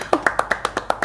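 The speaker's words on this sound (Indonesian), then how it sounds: "Tepuk tangan dulu deh." People clap their hands in a quick, even rhythm, with about eight crisp, close claps in just over a second.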